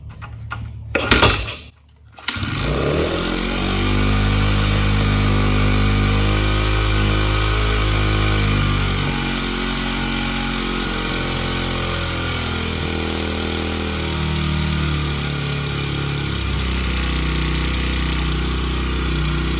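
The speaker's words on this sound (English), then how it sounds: "so we'll crank it back up and we'll idle her down" A Honda CRF100F kids' dirt bike is started after a short rattle and then revs before settling into a steady, loud idle, close up and alone with no voices.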